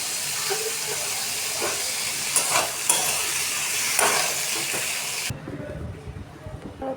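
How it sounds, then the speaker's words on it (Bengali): Potatoes and pointed gourd frying in hot oil in a kadai, a continuous bright sizzle with a few stirring scrapes, cutting off abruptly near the end to quieter room sound. "কড়াইতে তেল দিয়ে দিয়েছি গরম হয়ে গেছে পটল আর আলু কষিয়ে নেব"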